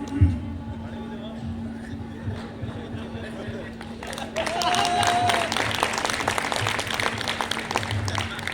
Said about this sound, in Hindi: तालियां एक बार पूरे सदन की बजाय